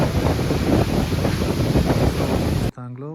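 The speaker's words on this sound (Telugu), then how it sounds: "ఇది రూప్సే వాటర్ ఫాల్స్ అండి, దానా అని విలేజ్." Rupse waterfall in Dana village, Nepal, a loud steady roar of falling water with heavy wind buffeting the microphone, continuous and close, then cut off as a voice begins speaking at the end.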